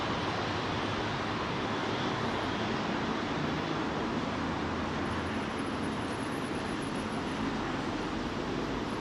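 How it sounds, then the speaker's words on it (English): A British Airways Boeing 787 with GE engines whirring at idle while lined up on the runway at London Heathrow, a steady distant broadband rush that holds evenly for the full stretch with no talking. "You can hear those engines whirring"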